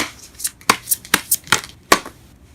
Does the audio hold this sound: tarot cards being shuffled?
yes